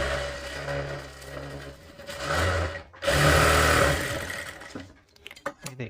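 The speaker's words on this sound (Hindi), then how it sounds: "इस पर एक प्रेस सिलाई लगाएंगे" A sewing machine runs a press stitch along a blouse, steady and close, slowing briefly mid-run before picking up again and ending in scattered clicks.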